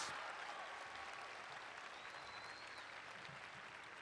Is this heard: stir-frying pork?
no